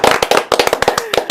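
Studio audience clapping on a Korean political talk show: a quick, uneven run of sharp, close hand claps over a little more than a second, with no voices.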